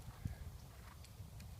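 Horse hooves plod over soft arena ground in a steady, dull walking rhythm during a schooling session with a snaffle bit, low thuds repeating close by with no talk over them.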